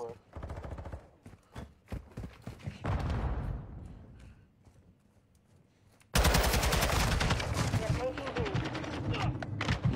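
Automatic gunfire in a video game, with loud, dense bursts of rapid shots that stop for a quieter stretch and then return as a sustained barrage, while players talk over it.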